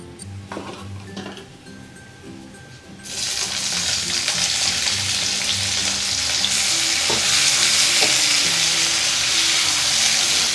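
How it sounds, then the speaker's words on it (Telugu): Mustard seeds and cumin hit hot oil for mutton boti fry: after a few seconds of quieter pan clatter, a loud, dense spluttering sizzle bursts in and holds steadily, with occasional utensil clinks. "ఆయిల్ వేడెక్కిన తర్వాత 1/2 టీ స్పూన్ ఆవాలు వేసుకోవాలి."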